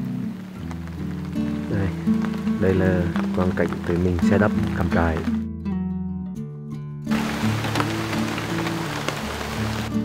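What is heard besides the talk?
rain falling on a campsite in Australia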